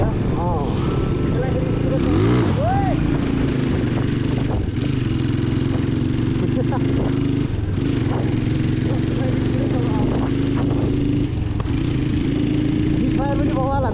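A fully restored, modified motorcycle with a handmade silencer rumbles steadily and loudly, the engine revving up and settling back, while people talk over it throughout.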